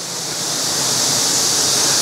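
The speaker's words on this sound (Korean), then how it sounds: "물소리 좋죠." A clear stream rushes nearby in a steady, loud, broadband roar that fills the whole stretch without pause, with no voices.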